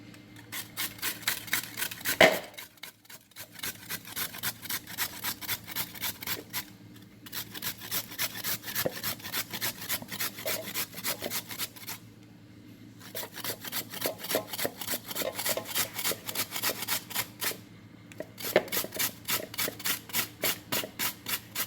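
Carrots being shredded on a grater for Jamaican coleslaw: steady rhythmic rasping strokes in several long bursts, separated by brief pauses, close and clear with no talking.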